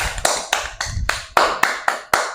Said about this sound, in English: Won't you give me a round of applause?